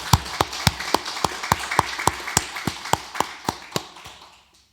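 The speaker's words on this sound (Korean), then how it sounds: "모든 선생님들에게 뜨거운 격려의 박수를" Rhythmic unison clapping at a church Teachers' Sunday service, honoring the Sunday school teachers: about a dozen sharp, evenly spaced claps from a congregation, fairly close and loud, then fading out.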